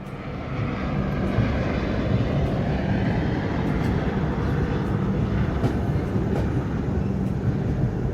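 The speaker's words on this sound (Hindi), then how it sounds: "और ये उड़ता हुआ हेलीकॉप्टर और त्रिकुटा पर्वत को देखने के बाद पता चल गया कि हम लोग कटरा पहुंच गए हैं" A steady, loud engine roar of a helicopter passing overhead near the Trikuta mountains at Katra, droning evenly throughout with no voices.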